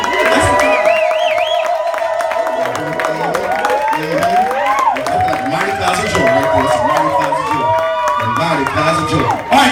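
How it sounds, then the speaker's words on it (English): Comedy show audience cheering, whooping and clapping loudly throughout, a dense continuous crowd roar with shouts rising over it and a host's voice talking above the noise. "So I need y'all to start clapping right now."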